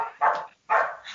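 A dog barks twice close by, two loud sharp barks separated by a short pause, with no talk.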